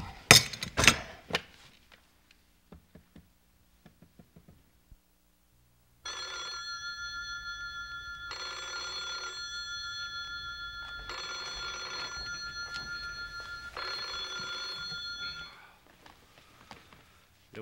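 An old telephone bell rings in four long metallic bursts separated by short gaps, fairly loud and alone after a few faint clicks and knocks, in a 1980s Korean drama scene.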